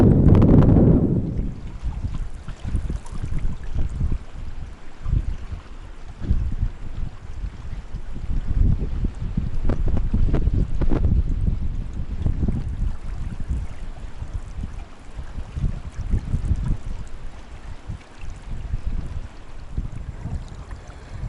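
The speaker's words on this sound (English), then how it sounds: "It's a bit breezy. It's going to be some noise pollution in today's video" Gusty wind buffets the microphone in low rumbling bursts that rise and fall throughout while kayaking downstream on a river, with moving water faintly beneath.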